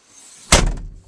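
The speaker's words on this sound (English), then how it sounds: "you got to shut your fucking door, and you got to shut it real tight" A truck door slams shut once, a loud close thump following a faint rustle of movement, with a short rattling decay afterward.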